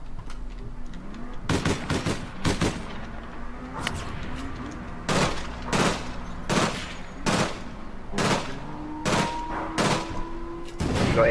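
Gunfire rings out in the APB Reloaded video game: a series of sharp, loud single shots and short bursts spaced irregularly over a low rumble, some close and punchy, with no talking.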